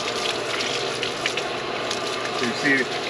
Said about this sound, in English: So you see that bubbling?